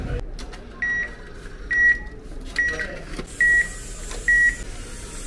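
An ATM booth machine beeps during a cash withdrawal, giving five evenly spaced, clear electronic tones over a low hum of nearby traffic.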